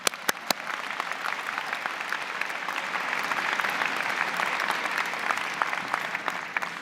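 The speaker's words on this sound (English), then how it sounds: "Let's give that a round of applause." A large audience at a university convocation ceremony applauds in a sustained, even roar of clapping that holds steady throughout, with a few sharp close claps at the start.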